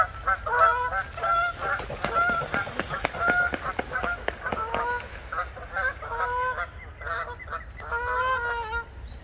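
Geese honk loudly and repeatedly in a rapid, overlapping chorus as a swan chases them, the calls close and continuous throughout with no talk.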